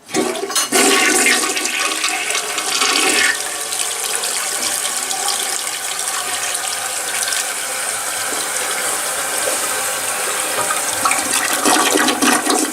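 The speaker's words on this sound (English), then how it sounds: "It's a decent flush, but it takes a while." A Standard toilet in a hotel room at Yavapai Lodge, Grand Canyon Village, flushes loudly nearby, an initial whoosh followed by a long, steady rush of refilling water.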